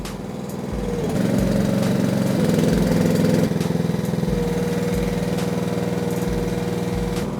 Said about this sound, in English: To increase the revs, just lower the throttle on the right hand side and you can begin operating the track dumper.